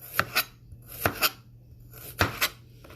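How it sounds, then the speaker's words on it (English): A knife slices vegetables into medallions on a cutting board in close, crisp taps, mostly in pairs with short quiet gaps between them. "I'm cutting off the stem, and then I'm just slicing them into medallions"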